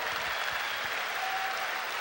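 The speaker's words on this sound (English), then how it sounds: "Could we have a round of applause for Kent and all of our speakers here tonight?" An audience at an evening presentation claps for the speakers, a continuous loud patter of many hands sustained evenly for the whole stretch without speech.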